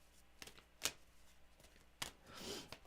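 Playing or tarot cards being shuffled by hand at close range in a quiet indoor room: a few short papery riffles and flutters, the longest burst near the end, with soft pauses between them and no talking.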